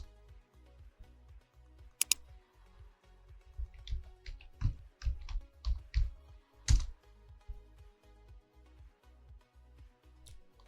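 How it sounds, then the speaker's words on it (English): A computer keyboard is typed on in a quick run of key clicks, close and soft, over a low steady hum, with no talking. "So I'm going to type MSF admin and hit enter."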